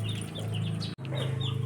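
A chicken clucks softly and repeatedly at close range, short throaty notes in an even rhythm with a brief break in the middle.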